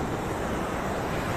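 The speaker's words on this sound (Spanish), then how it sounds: "Mar." Sea waves wash onto the shore at a fishing spot near a lighthouse in Mar del Plata, a loud, steady broadband surf roar mixed with wind, without speech.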